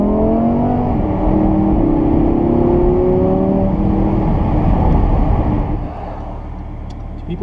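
A Lamborghini Huracan accelerates, its loud engine note climbing through several rising sweeps heard from inside the car, then easing to a lower steady hum near the end.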